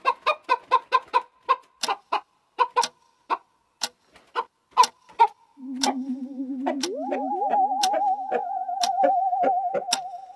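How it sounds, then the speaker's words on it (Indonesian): Cartoon chicken in a kids' animal show: a run of sharp, evenly spaced clucks and taps, then sustained rising and falling squawking tones layered together, clear and close. "Wah, ternyata ayam bisa dihipnotis."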